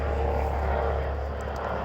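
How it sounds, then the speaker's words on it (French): Canadair firefighting aircraft passing overhead, a steady, loud propeller-engine drone filling the whole moment without breaks, with faint background noise. "il y a l'hélicoptère qui passe"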